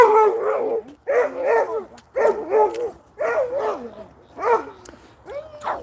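A dog barks close by in a run of about six loud, separate, rough barks at a steady pace, with short quiet gaps between them and no other sound.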